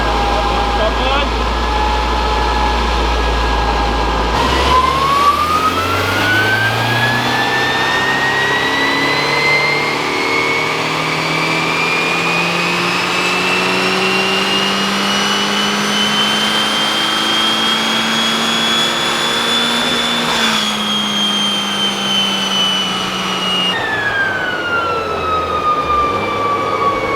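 A 2023 Honda Civic FL5 Type R turbo engine revs up on a dyno, pitch sweeping smoothly upward for about fifteen seconds before dropping off, loud and close with a turbo whine.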